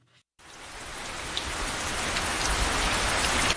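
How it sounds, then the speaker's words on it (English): Steady rain pattering and dripping through a leaky roof as a radio ad sound effect, starting abruptly after a brief gap and growing denser and louder, with no voices. "That's the sound of a leaky roof."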